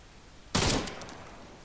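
A single sharp gunshot-like blast cracks out suddenly in the video game Arma 3, then decays, followed by a faint high electronic tone.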